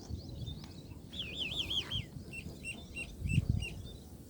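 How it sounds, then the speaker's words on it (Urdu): Morning birdsong in a village near a factory, with a looping whistled call and short repeated chirps at moderate distance over low background rumble. "پرندوں کے چہچہانے کی آواز بھی آپ کو آ رہی ہوگی۔"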